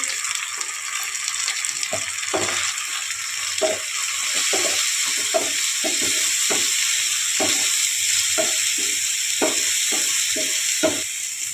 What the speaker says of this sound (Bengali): রসুন বাটা দিয়ে দিলাম 2 চামচ, হলুদ গুঁড়ো দিয়ে দিলাম 1 চামচ, কাশ্মীরি লঙ্কা গুঁড়ো দিলাম 1 চামচ